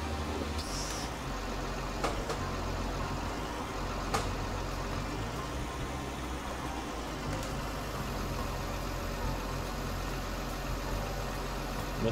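A heavily loaded truck, hauling felled trees in Thuringia, runs its engine in a steady, continuous low rumble for the whole stretch, with no talking.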